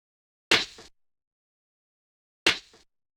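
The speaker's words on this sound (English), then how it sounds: "So together those two snares sound like this." Two stacked snare drum samples sounding together as one layered hit, struck twice about two seconds apart, crisp and fairly loud, each with a short decaying tail and silence around them.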